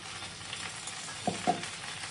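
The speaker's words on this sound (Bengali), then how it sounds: "ভেন্ডিটা ভেজে নেব ভালো করে, একটু লবণ আর হলুদ দিয়ে।" Okra fries in oil with salt and turmeric, making a soft, low steady sizzle. Two small stirring knocks come close together near the end, and the whole sound stays fairly quiet.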